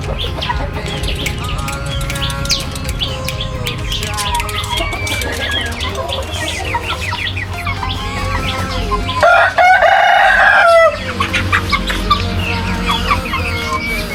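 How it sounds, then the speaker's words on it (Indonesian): Young roosters about three months old cluck and crow loudly and continuously, close by, with overlapping calls and one stronger crow partway through. "ini adalah ayam yang umur kurang lebih sekitar 3 bulan"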